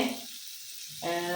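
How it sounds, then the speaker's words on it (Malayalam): Spices roast in coconut oil in a pan for chicken roast, a steady close sizzle that briefly dips and then swells again. "ഒന്ന് നല്ല പോലെ ഒന്ന് വറുത്തെടുക്കാം"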